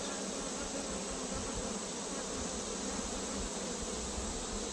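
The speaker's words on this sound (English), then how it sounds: "a bunch of bees" Honey bees hum at an open hive, a dense, even drone held close and constant throughout with no pauses.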